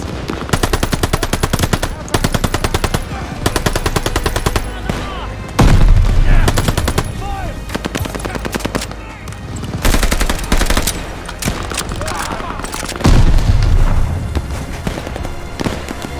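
Rapid machine gun fire in the Call of Duty: Vanguard World War II campaign rattles in long loud bursts, broken by heavy booming explosions and scattered shots, with shouting voices in the battle mix.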